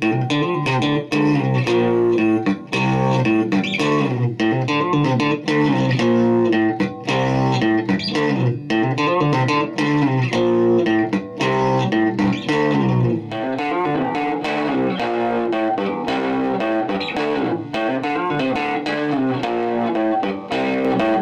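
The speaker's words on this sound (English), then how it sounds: "here is a tone test of a Tweed Champ, a Blackface Champ and a Silverface Champ" Fender Stratocaster electric guitar played straight into Tweed, Blackface and Silverface Fender Champ amplifiers without pedals, a long continuous run of strummed chords and riffs with slightly gritty overdriven tone, close and loud, with no talking.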